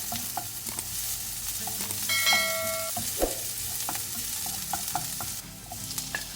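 Garlic and ginger frying with onions in a pan, a steady sizzle broken by scrapes and clinks of stirring, close and without talk.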